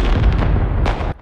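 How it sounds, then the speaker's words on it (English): Fireworks booming in a movie scene from A Quiet Place, a loud, continuous rumble of blasts and bursts that cuts off abruptly near the end. "Fireworks went off at the perfect time."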